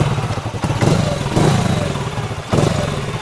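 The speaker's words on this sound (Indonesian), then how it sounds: "ini motor VTEC ni" A VTEC motorcycle engine revs in rough, throbbing bursts, with clattering mechanical noise and a couple of sharp surges in loudness.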